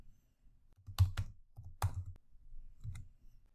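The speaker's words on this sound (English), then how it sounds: "let's type ls" Keys clack on a computer keyboard as terminal commands are entered, a few close, crisp strokes and short bursts with quiet pauses between them.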